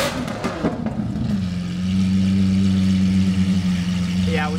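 A Lamborghini Aventador SVJ, warmed up after a few minutes, idles with a deep steady drone after an opening burst of revving.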